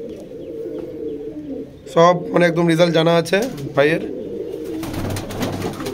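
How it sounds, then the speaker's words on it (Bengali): Rampuri pigeons in a loft cooing in close, throaty rolling bursts, with a voice speaking over and between the calls. "হ্যাঁ এই যে গাইস হচ্ছিল পায়রা"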